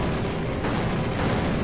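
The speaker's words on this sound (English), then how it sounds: "So many explosions." Explosions in the video game Nexomon Extinction form a dense, continuous rumbling roar of booms that swells again near the end, loud throughout with no speech.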